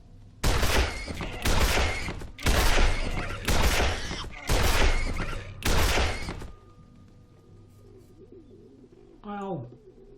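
Gunfire in the video game Wasteland 2 comes as six loud, evenly spaced blasts, each ringing briefly. A quieter game ambience and a short chirping sound follow.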